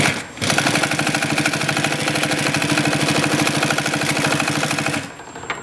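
An AtlasUSA AT201618 single needle walking foot sewing machine stitches at a fast, even rhythm, loud and close, starting abruptly and running steadily for about five seconds before winding down.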